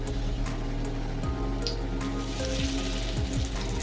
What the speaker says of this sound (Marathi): त्यानंतर आपल्याला इथे मासे आहेत हे सर्व फ्राय करायला तेलावर सोडून द्यायचे